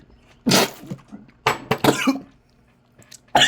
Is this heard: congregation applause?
no